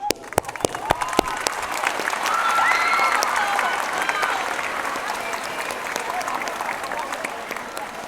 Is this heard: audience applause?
yes